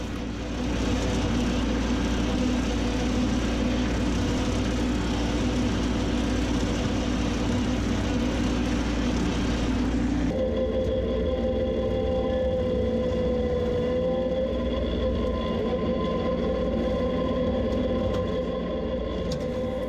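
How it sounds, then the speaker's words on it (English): A Massey Ferguson 1525 tractor runs a 4-foot Fleming topper through winter grass, giving a steady low engine drone that drops abruptly to a quieter, thinner hum midway. "To tell you a bit about the topper which is being used here, it is a 4-foot Fleming topper"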